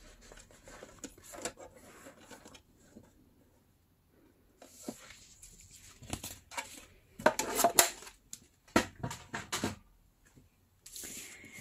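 Newspaper pieces being cut for collaged tags, heard as close, irregular bursts of scissor snips and crisp paper rustling, separated by short quiet pauses.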